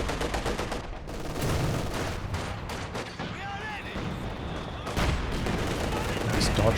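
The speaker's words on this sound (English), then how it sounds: "Some good indirect fire from the heavy mortars and the Katyusha" Heavy mortar and Katyusha rocket barrages in the Company of Heroes 2 war game, a dense run of booming impacts and crackling gunfire with overlapping blasts and near-continuous rumble, a voice occasionally heard in the mix.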